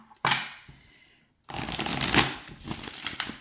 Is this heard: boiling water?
no